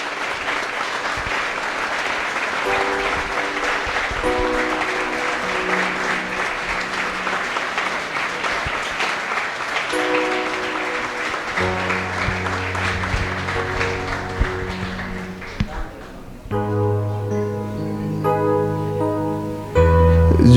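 A church congregation applauds a pastor, with loud, sustained crowd clapping that fills most of the clip. Music with steady sustained tones plays under the applause, which thins out near the end.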